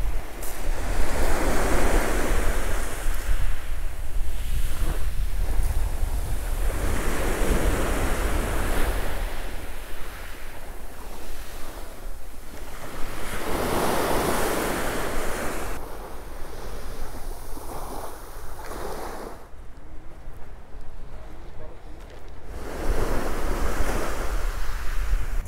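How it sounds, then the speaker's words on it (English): Sea waves break on the shore at Antalya, surging and washing back in repeated swells over a constant roar, with wind buffeting the microphone and no voices. "One of the privileges of living in Antalya, to be able to go here and listen to the waves"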